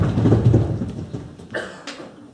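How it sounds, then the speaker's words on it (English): Thunder rumbles loudly in a storm, a deep rolling boom that fades, followed by sharper cracking bursts. "Alas, the storms come again."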